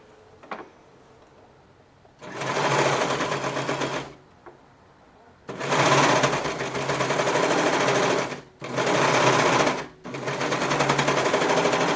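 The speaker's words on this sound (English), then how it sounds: "Now I'm going to go over the seam with the serger." A serger overlocks along a seam on a child's boxer brief, running in four steady bursts of rapid, buzzing stitching with short pauses between them, close and fairly loud.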